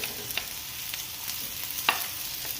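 Ginger, garlic and green chilies sauté in coconut oil with a soft, continuous sizzle, broken by a few sharp spatula scrapes and taps against the pan.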